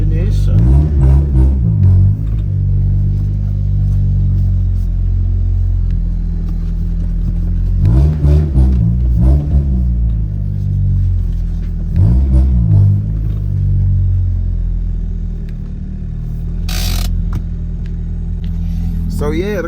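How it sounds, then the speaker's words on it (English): A car driving on the road after a CV axle replacement, steady loud engine and road rumble with a few swells of acceleration, a voice talking over it. "So yeah, the car drives all right."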